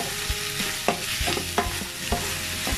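Shrimp, squid and pork liver stir-fried together for chop suey, with a steady sizzle broken by sharp clanks of a spatula against the pan at irregular intervals, close and fairly loud.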